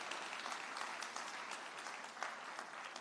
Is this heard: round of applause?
yes